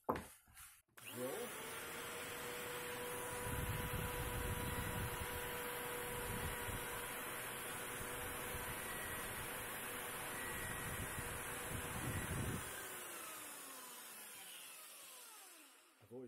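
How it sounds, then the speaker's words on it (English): Power drill boring out the threaded fitting of an old camera lens, a steady whirring machine drone running loud and continuous for most of the clip before winding down. "I'm just going to keep drilling it out until this fits and screws on reasonably easily"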